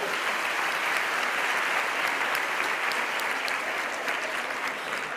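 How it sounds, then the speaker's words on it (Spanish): Steady, dense applause from a seated audience at a motivational wellness talk, sustained evenly for several seconds with no voices rising above it. "Un aplauso, por favor."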